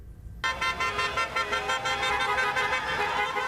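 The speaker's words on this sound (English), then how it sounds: "Honks of support and approval." Car horns honk repeatedly after a brief quiet start, overlapping toots blaring continuously in traffic passing a 'No Kings' protest in Dothan, moderately loud and somewhat distant.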